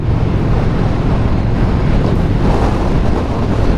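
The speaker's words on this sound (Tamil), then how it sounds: "காற்று ஒரு சைடாக தள்ளுதுங்க" Strong wind buffeting hard and steadily for a few seconds while riding on the road from Munnar to Coimbatore, a dense continuous roar with no speech.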